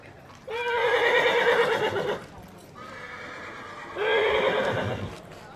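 A horse at an AQPS show in Cercy neighs in two long, loud, close whinnies with a pause between, hooves clip-clopping faintly underneath during stormy weather.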